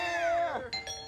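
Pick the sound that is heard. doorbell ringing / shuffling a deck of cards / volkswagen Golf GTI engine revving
doorbell ringing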